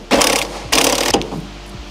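A ratchet wrench tightens a castle nut on a Miata drift angle kit, with two loud, close bursts of rapid clicking followed by a few softer clicks.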